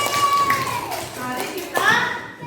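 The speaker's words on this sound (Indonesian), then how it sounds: "Tepuk tangan semuanya." Children in an Indonesian classroom clap their hands together in a quick burst of rhythmic claps, heard under a teacher's talking and children's voices.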